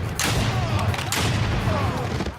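Shotgun fire from the M1 in the PS3 game 007 Blood Stone: two loud, sharp blasts about a second apart over a dense, rumbling game soundscape.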